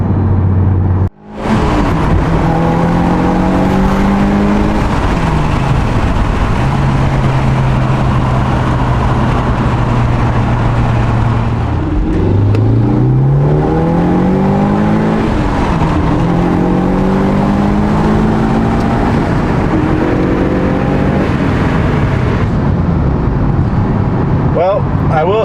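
A sporty wagon's engine pulls hard through repeated climbing revs toward a 7,000 RPM redline, loud and close, with upshifts dropping the pitch between sweeps and steady cabin road noise underneath.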